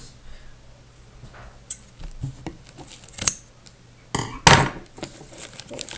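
Scissors are picked up and handled while opening a Pokémon Plasma Storm Elite Trainer Box, with scattered clicks, taps and a sharp metallic clatter near the end, close and fairly loud.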